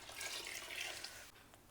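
Water is poured into rice for chicken mandi, a faint soft trickle that runs for about a second and then thins out, heard alone with no talk.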